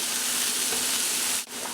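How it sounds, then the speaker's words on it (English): Ground turmeric and cumin are stirred into a hot pan, giving a continuous close sizzle with a brief scrape near the end and no talk. "Stir those in."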